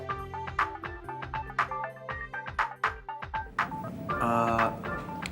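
A melodic phone ringtone plays a repeating, bright electronic tune, close and clear, with no talk over it, in an Indonesian drama scene.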